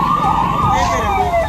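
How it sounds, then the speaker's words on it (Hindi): Ambulance sirens wail through a city after a poisonous gas leak from a factory, a loud continuous sweeping tone rising and falling over background street noise. "पूरा शहर एम्बुलेंस की आवाज से गूंजने लगा।"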